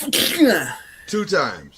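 A single person sneezes at close range, sharp and sudden, with people speaking around it.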